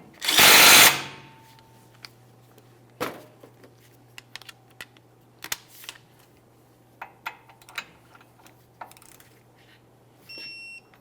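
A wrench tightens the outer tie rod end nut on a 1999–2006 Chevrolet Silverado front suspension: one loud, brief tool burst at the start, then sparse, sharp metallic clicks and taps spread over several seconds.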